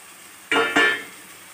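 Water splashed into a hot pan of frying cabbage and rice, two quick hissing bursts in succession that flare loudly, then settle into a faint, fading sizzle.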